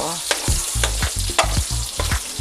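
Hot cooking oil spatters and sizzles in a pan while pancit is being cooked, with sharp crackling pops at irregular intervals over a steady frying hiss, close and fairly loud.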